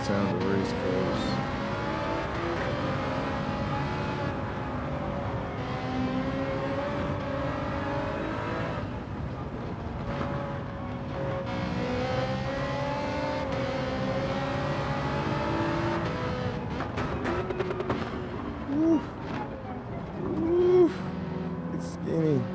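Race car engines from Gran Turismo 7 drone and rev continuously, shifting pitch through gear changes and corners, with occasional tire squeal, while a person talks over the game sound.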